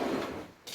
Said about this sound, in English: should have opened this door first.